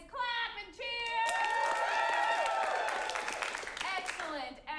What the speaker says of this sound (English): So let me hear you guys clap and cheer